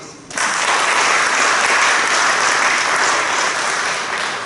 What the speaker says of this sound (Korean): 우리 박수로 마치겠습니다.